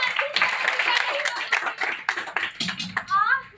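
An audience at a stage play on legal literacy and saving daughters claps in irregular, uneven bursts, loud and near, mixed with voices speaking.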